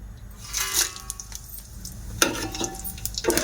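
Whole spices, cinnamon sticks, cardamom pods, bay leaf and shahjeera, frying in hot oil for prawn biryani make a close sizzle, with spoon scrapes and clinks against the pan coming in bursts and no talk.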